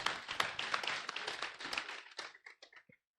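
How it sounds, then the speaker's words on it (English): An audience at a legal aid open day claps for a few seconds. The applause starts moderate and thins into scattered individual claps before dying away into silence. "we give her a very big round of applause"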